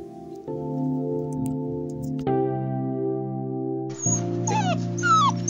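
Puppet-play puppies crying and whimpering over a sustained musical background, with high, wavering whines rising near the end of the stretch.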